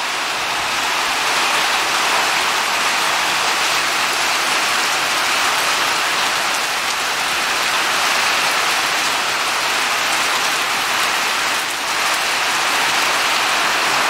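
Heavy rain pounds steadily on a carport roof, a dense continuous hiss and patter that stays loud and even throughout, with no voices.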